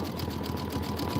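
A sewing machine runs steadily while stitching pieced snowman blocks for a 22-inch quilted pillow, a close, continuous whir with fast regular needle pulses and no talk.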